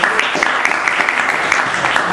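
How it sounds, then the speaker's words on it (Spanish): An audience at a literary tribute to Onetti breaks into applause, a dense, steady patter of many hands clapping close by for about two seconds. "pido para ellos un aplauso de todos los que estamos aquí"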